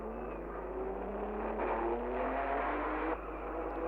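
Several Formula One race cars from the 1957 Monaco Grand Prix roar past together. Their engine whine is steady and slightly muffled, heard at a distance on an old, noisy recording, with no talk over it.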